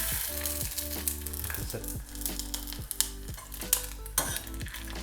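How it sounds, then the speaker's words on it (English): Chip dough dropped into 210 °C oil and pressed down, giving a close, steady sizzle and bubbling with scattered clinks of a utensil against the pan. A voice speaks a couple of words briefly. "We have about 210 degrees Celsius oil. We're just gonna throw it in, squish it a little bit"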